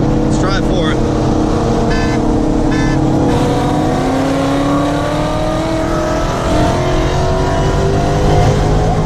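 A car engine revs and pulls hard during a fourth-gear roll race, its rising whine loud and close, with voices briefly talking over it near the start.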